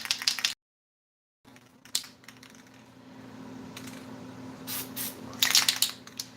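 Spray painting another coat of color on a new drag racing project car, with short hissing bursts from the spray gun over a steady low hum, including a brief stop and a louder burst near the end.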